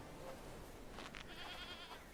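A single short goat bleat in a video game, faint and wavering, against a quiet hissy background with no talking.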